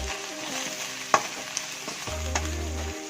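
Masala seasoned with fennel and salt fries in a pan while being stirred, giving a soft, steady sizzle broken by a few light clinks and scrapes of the spoon.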